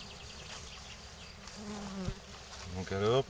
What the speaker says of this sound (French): quelques abeilles qui semblent aller dedans